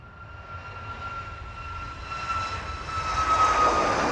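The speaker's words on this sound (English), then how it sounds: "Finally making its way out of East Midlands this evening then, that Chewy service off to Heraklion." An airliner on the Jet2 service to Heraklion taxis out of East Midlands in the evening. Its engine roar builds steadily, with a sharp high whine, and grows loud and near toward the end.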